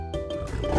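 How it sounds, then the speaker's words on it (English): A tiger roars once, loud and close, a deep rumbling growl that swells and grows louder through to the end, with no voices over it. "That's right! It's a tiger!"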